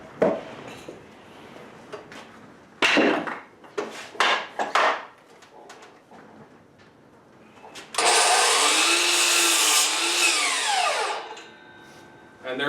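A power saw cuts wooden boards for the walls of a chicken coop: one loud, sustained cut of about three seconds near the end, preceded by scattered clatter and knocks as boards are handled, with no talk.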